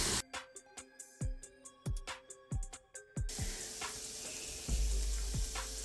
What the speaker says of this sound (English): we're going to cook more onions, because I like my gravy to have a lot of onions in it